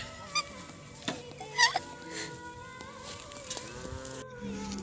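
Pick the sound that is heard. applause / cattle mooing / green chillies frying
cattle mooing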